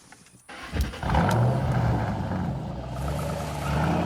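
A car engine revs up and roars, rising sharply then holding a loud, rough drone with music-video mixing around it.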